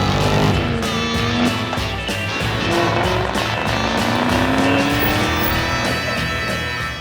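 A Ford Mustang sports car drives hard with a loud revving engine and rising gear pulls, while tires give short squeals over the steady roar.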